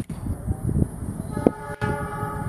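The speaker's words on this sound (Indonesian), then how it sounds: "Gemuruh suara lokomotif sudah terdengar nih dari kejauhan CC206." A CC206 diesel locomotive rumbles along the track on a steep, curving climb, a deep, steady roar with no speech.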